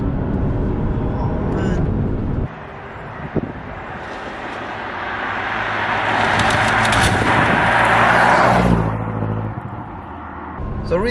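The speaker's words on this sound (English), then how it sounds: "you can clearly tell it's a V8" A BMW M6 Competition with its V8 engine rumbles and swells under acceleration from inside the cabin, rising to a loud peak and dropping away, with talk over it and wind noise mixed in.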